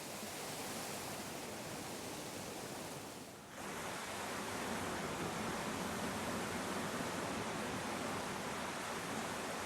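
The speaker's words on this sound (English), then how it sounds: "So I'm going to try and shield the sound of the waterfall with my hands here. It's really, really loud." A loud, steady roar of a waterfall, a continuous rushing wash that briefly dips in volume for a moment before returning at full strength.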